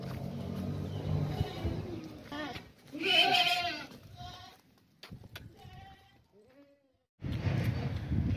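Young goats of the Gaban breed bleat in short, wavering calls, some close and loud, others fainter, between stretches of rustling farm noise and brief pauses.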